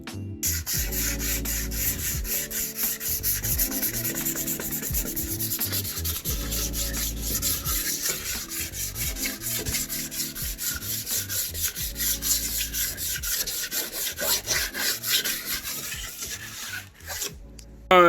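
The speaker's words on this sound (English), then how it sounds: "Anyway, I'll get sanded, see how it goes." Steady, continuous hand sanding on car bodywork during paint prep, a rhythmic rasping scrape with repeated back-and-forth strokes running without pause, close and fairly loud.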